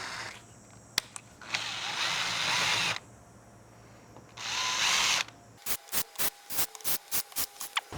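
A power drill fitted with a 5/8 bit cleans out the head stud holes on a 4EFTE engine's cylinder head. Two sustained whirring bursts are followed by a rapid series of short trigger blips, with a couple of sharp clicks before them.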